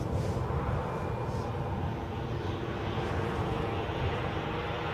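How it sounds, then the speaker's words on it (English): An inbound easyJet airliner from Gatwick, arriving at Edinburgh airport, gives a steady broad jet roar that holds constant and fairly loud throughout, with no voices. "the inbound easyJet is from Gatwick"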